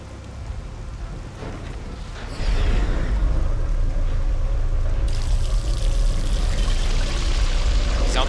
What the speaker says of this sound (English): Now the water's coming from that instead.